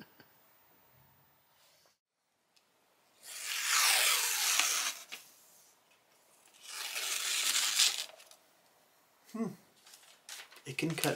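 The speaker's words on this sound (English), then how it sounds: "It can cut paper." A 5160 steel tanto camp knife slicing through paper, two loud close hissing cuts of several seconds each, followed by a few short rustling strokes.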